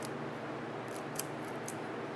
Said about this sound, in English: with a freshly sharpened chisel here